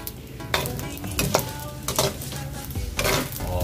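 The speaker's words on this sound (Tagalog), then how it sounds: "Tapos mag-prito ako ng itlog." Eggs frying in a pan, a close steady sizzle broken by repeated scraping and stirring with a utensil against the pan.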